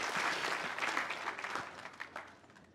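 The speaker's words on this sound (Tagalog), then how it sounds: "Pumalakpak ang mga born again." A church congregation claps together during a sermon, a full burst of many hands that gradually thins and fades into scattered claps.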